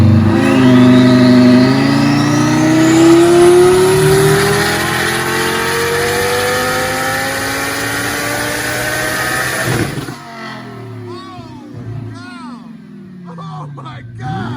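A boosted Lamborghini engine revs hard on a dyno at 13 pounds of boost, climbing loudly in pitch for about ten seconds before cutting off abruptly, followed by excited shouting.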